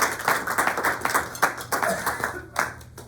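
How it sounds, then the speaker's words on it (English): A Rotary Club audience gives a guest speaker a round of applause, a modest crowd of hands clapping at close range with distinct individual claps in an uneven rhythm. "Let's give a warm round of applause to Emanuel Rund."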